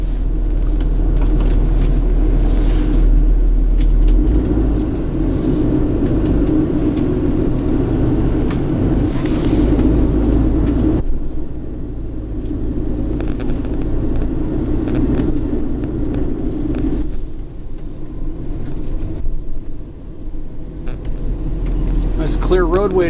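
Low, steady engine rumble of a 2020 Freightliner Starcraft Allstar XL 36-passenger shuttle bus driving on the road, constant throughout with a slight shift in tone midway, with occasional voices underneath.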